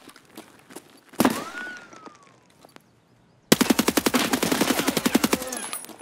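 A 7.62 MDR rifle fires in Escape From Tarkov. First comes a short burst followed by a ringing tail, then a pause, then a long loud rapid stream of automatic shots close by. No one speaks.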